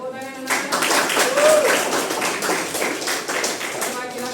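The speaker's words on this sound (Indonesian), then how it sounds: "Beri tepuk tangan anak-anak." Schoolchildren applauding in a classroom, a burst of many small hands clapping in quick, uneven patter that starts abruptly and carries on steadily, close and fairly loud, with a brief voice mixed in.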